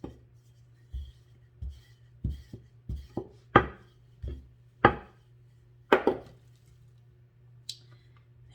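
A knife cuts through almond bars on a board, producing a series of irregular soft thuds and clicks spaced out over several seconds, close and fairly quiet.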